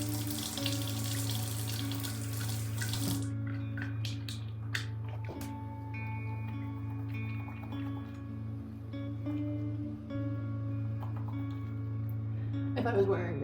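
Tap water runs steadily into a bathroom sink during face washing, a constant hiss underneath, with a few light clinks and splashes and a voice talking over it.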